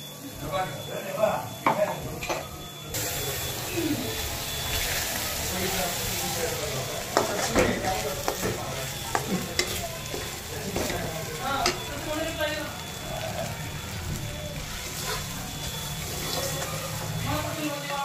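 Ground dal sizzles as it fries in a dark black masala for dubuk vada curry, with steady crackling and repeated spoon scrapes and stirring close by. A voice speaks intermittently over the cooking.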